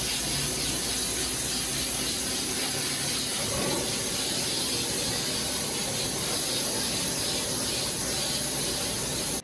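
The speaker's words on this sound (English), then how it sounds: "Now I'm going in with this pink Sheen spray." An aerosol can of pink oil sheen sprays onto hair in one long, steady hiss lasting several seconds, loud and close throughout.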